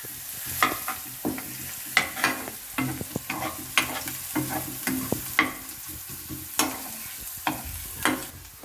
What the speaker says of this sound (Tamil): அது கூட சேர்த்து நல்லா வதக்கிக்கலாம்.